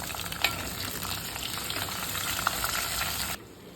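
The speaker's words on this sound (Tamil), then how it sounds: "இது எல்லாத்தையும் போட்டுட்டு ஒரு வதக்கு" Ginger and green chili sautéing in hot oil, a loud, dense sizzle with stirring scrapes that cuts off sharply near the end, no talking.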